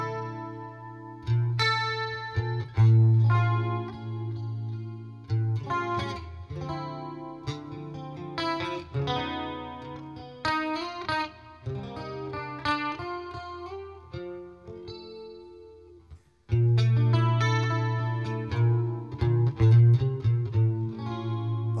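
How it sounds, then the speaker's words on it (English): Clean electric guitar, an Ibanez Montage with reverb and chorus, plays chords and single notes with a shimmering, spacious effect, pausing briefly before strumming again. "give you a nice clean tone that kind of gives you a jazz box sound"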